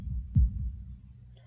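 A heartbeat sound effect from the visual novel Katawa Shoujo gives one deep, muffled thump followed by a softer one, low and close, with no voices.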